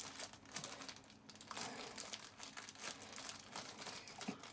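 An unmarked plastic bag holding screws for a Flsun Kossel delta 3D printer kit crinkles steadily, faint and close, with rustling crackles and small clicks continuing throughout.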